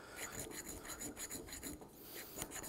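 A metal file rasps across soft bronze in quick, repeated scraping strokes, close and fairly quiet, with an even back-and-forth rhythm and no talk.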